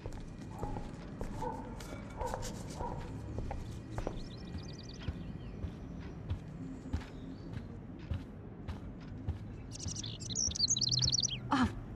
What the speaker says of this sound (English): can you help me get this bird out of here?